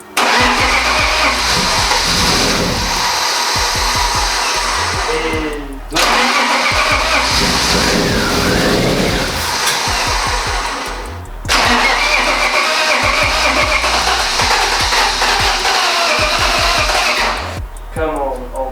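An old BMW E36 race car, 26 years old, cranks repeatedly in three long loud bursts of starter and engine noise, each cut off by a short pause, with people talking around it.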